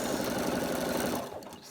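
A sewing machine stitches fabric appliqué sand onto a beach hut picture, a rapid, even, close mechanical whirring that eases off toward the end.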